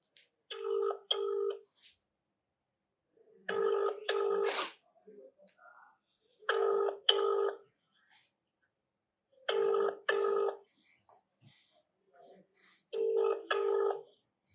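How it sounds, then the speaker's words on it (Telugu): A telephone ringback tone sounds while a call is being placed, with paired rings repeating at an even pace about every three seconds. The rings are separated by quiet gaps, and a faint voice murmurs now and then. "సో మరి ఏం చూపిస్తాడో మరి ఏందో ఒకసారి శాంసన్ గారికి ఫోన్ చేద్దాం."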